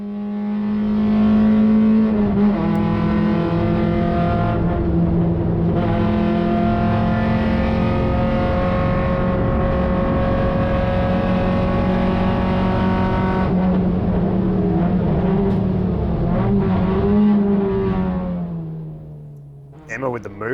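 Race cars lap the Phillip Island GP circuit, engines holding a loud, sustained high-pitched drone with shifting gear tones, close and continuous before easing off near the end, under an occasional voice.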